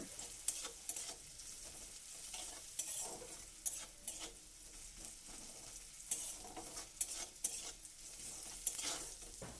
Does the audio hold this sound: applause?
no